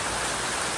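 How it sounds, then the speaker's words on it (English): Steady rain pouring onto a Leopard 46 catamaran with fresh gelcoat, a dense even hiss of drops with no pauses, no voices. "The rain is just non-stop and it's just too humid right now"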